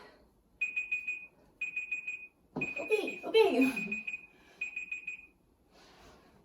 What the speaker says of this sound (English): It's like fire alarm.